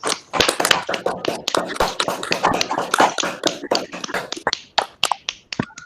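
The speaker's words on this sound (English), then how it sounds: "can we all unmute ourselves and welcome him with a round of applause?" A handful of online meeting participants clapping after unmuting, close, uneven individual claps overlapping through mic audio.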